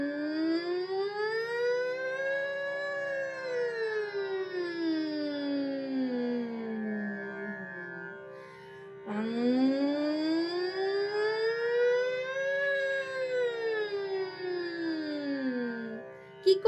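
A voice imitates a siren in a nasal vocal exercise, gliding smoothly up and down in two long sweeping wails over a steady drone, close and clear.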